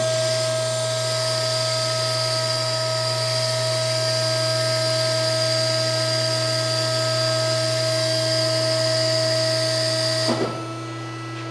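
Tube bending machine bending a single rail, a steady loud mechanical whine with strong tonal hum running continuously for about ten seconds, then cutting off abruptly with a brief clunk near the end.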